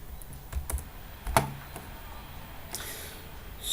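Someone types a web search on a computer keyboard, producing a quiet, close run of light clicking keystrokes with a few sharper taps, all on their own without talk.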